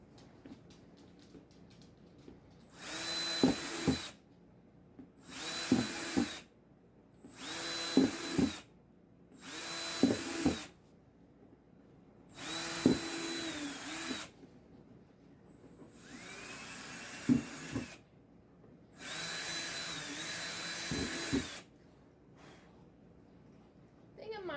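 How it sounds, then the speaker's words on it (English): A power drill bores ventilation holes in the plastic lid of a homemade worm composting bin, with seven separate whirring bursts of a few seconds each, split by quiet pauses and light handling clunks. "I'm going to put some holes in the top of the lid"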